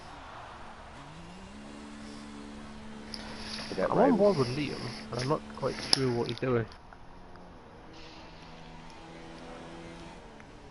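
A car engine revs repeatedly in a Formula 3 racing video game at the Azerbaijan round, a droning, rising whine heard faintly beneath a commentator talking over it.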